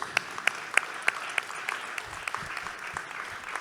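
An audience claps at an evening community presentation in Fresnes: a few sharp, evenly spaced claps at first, then looser scattered clapping that thins out, fairly quiet and heard from a distance.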